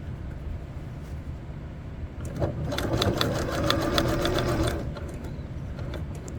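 A sewing machine runs steadily, its motor rising into a louder, labored rattle midway as the needle punches rapidly through a thick backpack seam of heavy fabric, then easing back down.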